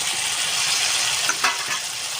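Chicken stomach with young jackfruit and pre-fried potatoes sautéing in a pan, a steady dense sizzle and hiss running throughout with a few brief clinks of stirring near the end.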